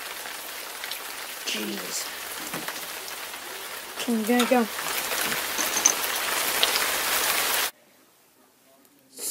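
Steady rain patters on a surface throughout, with someone talking briefly over it before the sound cuts off abruptly near the end, in the game Freddy Fazbear's Pizzeria.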